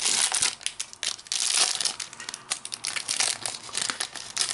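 A see-through plastic wrapper on a 20-card Topps Match Attax trading card pack crinkles and tears open. The sound is a close, continuous rustle with crisp crunching bursts and no voice.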